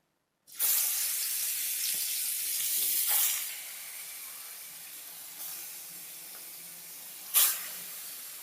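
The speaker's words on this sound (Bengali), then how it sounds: "এবারে বন্ধুরা আমি মেরিনেট করা মাছগুলোকে ভেজে নিচ্ছি" Marinated boal fish frying in hot oil for a fish curry with potato and bori, a steady loud sizzle that flares up several times as pieces are turned or added, with no talking.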